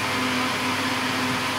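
Kitchen blender running steadily while blending a breakfast mixture, a continuous close motor whir with a low steady hum throughout, no talk.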